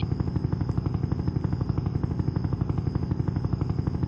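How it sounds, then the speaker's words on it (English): A helicopter in the Roblox game Jailbreak drones steadily, its rapid rotor chop pulsing evenly throughout, loud and close with no talking. "Get on heli."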